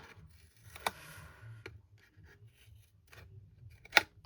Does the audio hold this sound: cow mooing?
no